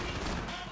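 Dense bursts of rapid gunfire in the video game Max Payne 3, loud and continuous for a brief moment, with the sound of a voice mixed in.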